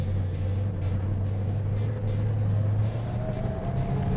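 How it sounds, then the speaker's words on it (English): An old Hemi four-speed crash-box gearbox in a Plymouth Road Runner whines on the move, a thin rising tone riding over steady, loud engine and road rumble. "There's that old Hemi 4-speed whine."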